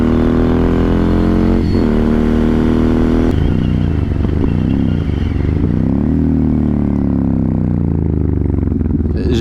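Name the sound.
motorcycle riding with engine braking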